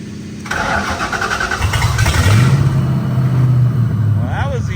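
A vehicle engine cranks briefly and catches, settling into a steady rumbling idle after a winter maintenance job; a voice speaks faintly under the engine noise toward the end.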